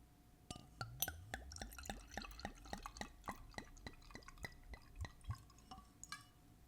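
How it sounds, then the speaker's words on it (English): Wine poured into a glass, heard alone and close as a rapid run of bright drips and splashes over about six seconds, quiet overall with faint glassy clinks. "now I'm going to do my visual ASMR pour"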